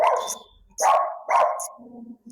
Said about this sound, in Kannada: ಎಷ್ಟು ಕ್ಯೂಟ್ ಆಗಿದಾವೆ ನಾಯಿ ಮರಿಗಳು